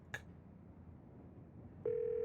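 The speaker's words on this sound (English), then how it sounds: "You pull out your phone and call." In the Scarlet Hollow video game, a phone call goes out: a brief beep, a low hum, then a steady electronic ringback tone begins near the end, quiet and clear with no voices.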